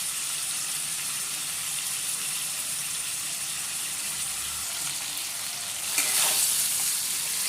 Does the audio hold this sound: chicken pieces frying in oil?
yes